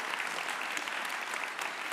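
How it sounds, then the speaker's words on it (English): An audience gives a burst of applause for a speaker at a talk, dense, even clapping filling the room without pause. "please give him a big applause, Tim Lenton."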